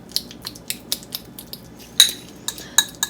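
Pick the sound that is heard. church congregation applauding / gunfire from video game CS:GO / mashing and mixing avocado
mashing and mixing avocado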